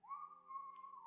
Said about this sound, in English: Someone whistling.